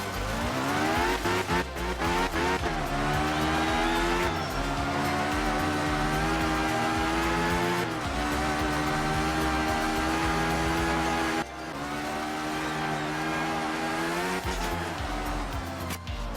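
A race car in a racing video game revs hard at full throttle with tire squeal as it power slides, the loud engine drone broken by a couple of abrupt impacts as it clips a fence.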